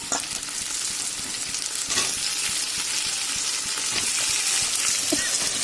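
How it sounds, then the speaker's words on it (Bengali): Loud, continuous sizzling of a dried fish curry as vegetables (potato, eggplant, carrot, beans, radish) go into the hot pan, with a dense frying hiss and scattered stirring scrapes throughout. "এবার সবজিগুলো দিয়ে দেওয়া হচ্ছে"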